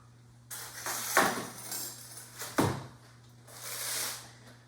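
Baking trays lifted out of an oven and set down on a kitchen counter, two distinct clattering metal knocks against a low hum, with a soft sliding rustle around them.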